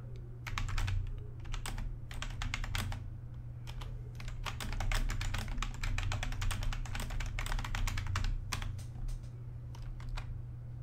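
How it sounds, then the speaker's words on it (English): Steady typing on a computer keyboard, close and clear, with quick runs of keystrokes broken by short pauses throughout, over a low background hum. "If I can type today."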